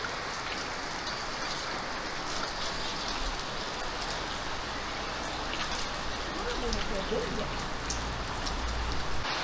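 Steady rain patters densely on surfaces nearby, a constant hiss of drops with a voice murmuring faintly underneath.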